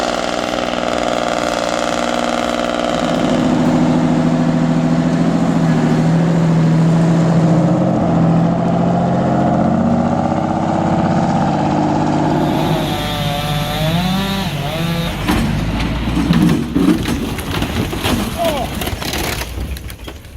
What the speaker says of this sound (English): Nothing sounds like a two-stroke Detroit.